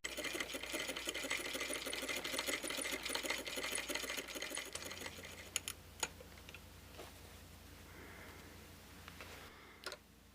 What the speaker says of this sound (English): so I just have to sew the 2 sides on this floral piece.